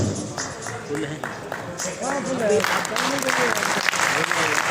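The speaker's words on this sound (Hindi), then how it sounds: "मैं चाहता हूं कि आपकी तालियां और आपका शोर जोर से आना चाहिए" Applause and cheering rise from a live audience at a magician's stage show, clapping dense and loud throughout while voices shout and talk over it.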